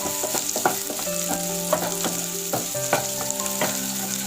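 Chopped shallots fry in hot oil in a pan for fenugreek payasam, a steady close sizzle with crackling pops and stirring scrapes throughout, no voice.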